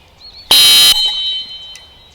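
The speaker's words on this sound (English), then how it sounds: "When I blow the whistle" A retriever training whistle gives one very loud, shrill blast of about half a second, heard alone and close, with a faint ringing tail after it.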